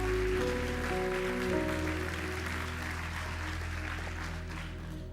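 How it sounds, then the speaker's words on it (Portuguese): A church congregation at a Sunday evening service applauds the Lord, soft massed clapping washing under sustained organ or keyboard chords that ring steadily throughout, fairly even and moderately distant. "Dê um aplauso bem forte ao Senhor,"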